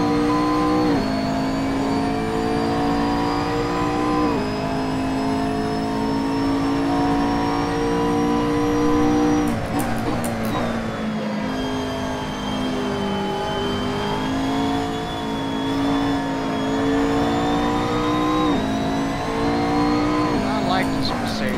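A Mercedes GT3 race car in Assetto Corsa at Spa runs with a loud, steady engine drone, rising through the revs and dropping sharply at each gear shift, with brief talk over the engine.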